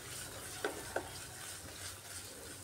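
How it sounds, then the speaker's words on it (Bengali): Onion masala with salt being stir-fried in a wok, a soft continuous sizzle with two quick, close spatula scrapes early on and no voices. "এইভাবে লবণ দিয়ে আরেকটু সময় কষিয়ে নিচ্ছি।"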